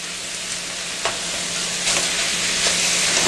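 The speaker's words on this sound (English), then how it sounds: "Stir that up." Seasoned chicken sizzles loudly in a pan for a creamy curry, a dense continuous frying hiss with a few faint scrapes of stirring and no talking.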